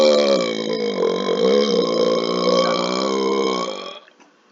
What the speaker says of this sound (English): I just burped that 6 into a 9.